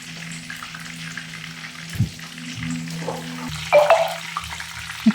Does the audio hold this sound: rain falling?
no